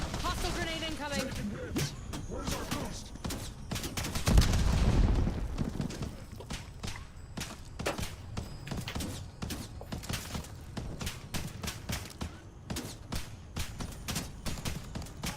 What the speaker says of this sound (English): Hostile grenade incoming.